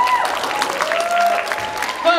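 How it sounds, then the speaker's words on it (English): Live audience clapping after a singer's performance on stage, a full, sustained burst of applause from the crowd with a voice speaking over it. "Clap your hands out there and make some noise for her"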